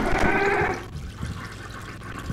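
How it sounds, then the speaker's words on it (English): A toilet flush inside a video game, a gushing watery rush that runs loud for under a second before fading into quieter gurgling and refilling. "Remember to flush after you use the toilet."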